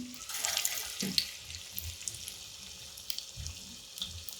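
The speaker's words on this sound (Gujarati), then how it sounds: "તેલ સરસ એવું ગરમ થઈ ગયું છે. એમાં આપણે ફ્રાય કરી લઈશું." Soya kababs frying in hot oil over a high flame, a soft bright sizzle and crackle with intermittent low bubbling pops, moderately close and steady.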